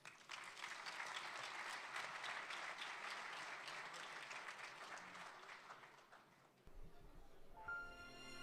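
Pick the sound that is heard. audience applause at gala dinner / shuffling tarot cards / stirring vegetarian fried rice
audience applause at gala dinner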